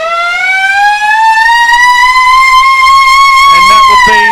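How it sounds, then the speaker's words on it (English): A loud, sustained electronic goal siren for Olympia FC Warriors at a Devonport football match, one steady rising tone held for several seconds close to the microphone, with a faint crowd murmur at the end. "that would be the goal siren for Olympia FC Warriors"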